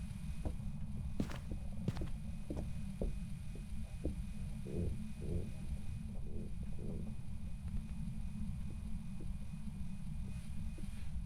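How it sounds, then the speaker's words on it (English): Regular thudding footsteps of a ghost hunting in Phasmophobia, a fairly quick rhythmic series of soft impacts under a constant low droning hum. "I mean, that could well be regular footsteps"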